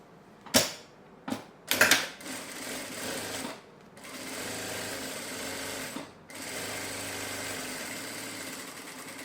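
A sewing machine stitches fabric for a notebook case, starting with a few sharp clunks before settling into a steady, close whirring run that stops briefly partway through.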